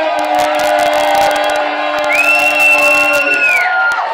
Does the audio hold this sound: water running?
no